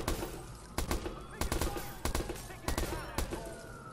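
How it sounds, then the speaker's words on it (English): Full-auto submachine gun in Watch Dogs, firing in several rapid bursts of sharp cracks separated by short pauses, loud and close over a steady background. "Full auto submachine gun."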